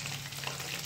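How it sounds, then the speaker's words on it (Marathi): Chicken 65, or chicken bhaje, pieces deep frying in hot oil, giving a steady, close, even sizzle with a fine crackling hiss throughout and no voices. "आता आपण दुसरे याच्यात परत तळून घेणार आहोत"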